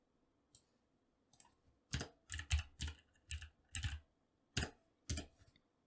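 Keys tapped on a computer keyboard to enter a short word, then the enter key, in a quiet room; a few scattered clicks give way to a quick run of close, crisp keystrokes with no talk.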